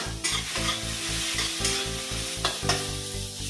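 Onion, tomato, dried red chili and peanuts stir-fried in a little oil in a kadai: loud continuous sizzling with rhythmic spatula strokes scraping the pan, about two per second, close up and alone.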